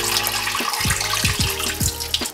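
Tap water runs steadily into a bowl of sushi rice during rinsing, a close, continuous splashing stream with a few low gurgles and sloshes breaking through.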